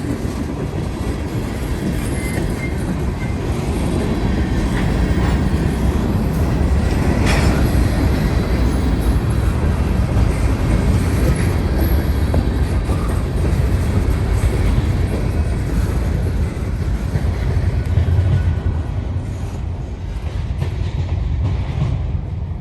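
A freight train rumbles past a level crossing steadily and loudly, with wheel clatter and occasional metallic squeals running throughout before easing slightly near the end.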